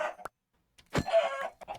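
Chickens in a Minecraft-style block game give a short cluck, then after a pause a longer burst of several close, busy clucks, alone and without talk.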